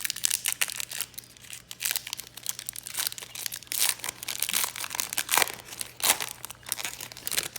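Dominaria Remastered draft booster packs being torn open by hand, a run of crinkly foil wrapper rips and crumples, close and fairly quiet, with a steady low hum underneath.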